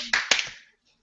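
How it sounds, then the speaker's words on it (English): Two sharp hand claps land close together and loud, followed by a quick decaying tail and then silence. "Let's just clap."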